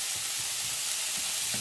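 Red and white onions and tomatoes sautéing in a pan, giving a steady soft sizzle with a few faint stirring scrapes, close and continuous with no talk.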